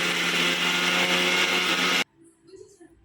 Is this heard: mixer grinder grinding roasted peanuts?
yes